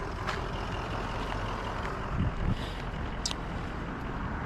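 A loud diesel truck backs up on a street in light rain, its engine drone running steadily with a brief air-brake hiss midway and a couple of faint high beeps, with wind noise over the microphone.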